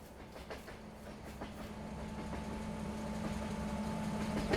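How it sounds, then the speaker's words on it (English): A long train with two engines rolls along the rails in Farming Simulator 22, its steady rumble and faint rhythmic clatter growing slightly louder throughout, with a sustained engine hum underneath. "And there's the train."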